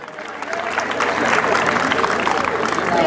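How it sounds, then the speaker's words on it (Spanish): A crowd at a rodeo at Rancho La Cienega in El Platanar, Puebla, applauds in a steady wash of clapping that swells and holds; an announcer's voice may be heard alongside. "Que vengan los aplausos"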